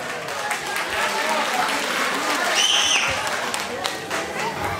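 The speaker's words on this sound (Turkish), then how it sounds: "Allah'tan alkışlar yok mu alaya?" Wedding guests applaud in a dense, steady burst of clapping that carries through the whole stretch, with crowd voices and a brief whistle-like tone mixed in.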